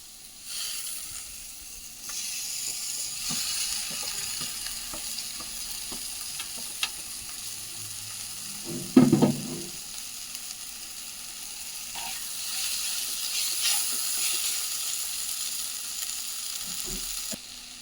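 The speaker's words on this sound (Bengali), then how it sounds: "আমার এই চাউমিনগুলো ঢেলে দিব বন্ধুরা" Chow mein noodles frying in a hot pan, a steady close sizzle throughout with a brief louder stir-and-scrape burst partway through, no talking.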